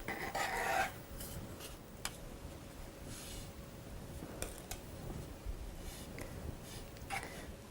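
A spatula dabs quick brush-like strokes of buttercream onto the edges of a rustic layered cake, making soft, close scraping and rasping rubs, louder at first and then repeating quietly and irregularly without any talk.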